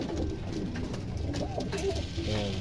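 Pigeons at an evening feeding of mixed breeder and flyer grain with pellets coo softly and steadily, close by, over a constant low rumble of background noise.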